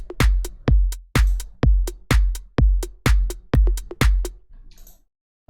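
The first percussion layer of an FL Studio organic house track: a fast, steady groove of crisp clicky hits over deep thumping beats, loud and alone, stopping briefly near the end before resuming.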